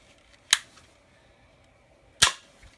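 Two sharp, loud cracks from a toy cap gun fired at a small target, close by and spaced under two seconds apart, with quiet between them.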